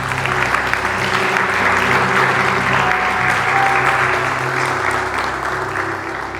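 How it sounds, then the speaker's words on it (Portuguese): Church congregation applauding during a sermon, a dense steady wash of clapping throughout, with a low sustained musical drone or organ tone underneath. "Se você queria aplaudir a Jesus"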